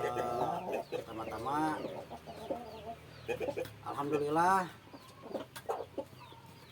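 Pelung chickens at a breeders' gathering in Indonesia cluck and crow in long drawn-out calls, fairly close, mixed with someone speaking in the foreground.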